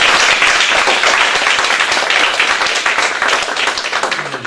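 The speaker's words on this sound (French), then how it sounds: "Si je peux l'applaudir." An audience at an evening lecture gives the speaker a full round of applause, close and loud, with many hands clapping in a dense, even patter that eases slightly toward the end.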